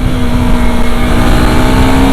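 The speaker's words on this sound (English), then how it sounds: "Can you hear that engine, huh? Liquid cooled engine churning out 46 PS of power." A 2024 Husqvarna Svartpilen 401 motorcycle with a liquid-cooled 46 PS engine, ridden on winding hill roads near Pune, gives a loud, steady, droning engine hum that holds at an even pitch throughout.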